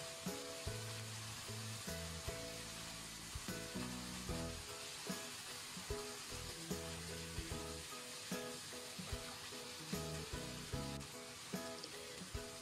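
Spicy diced chicken breast with green and red peppers stir-fries in a hot pan, giving a steady, dense sizzle throughout, broken by frequent scraping and clinking stirring strokes; no voices.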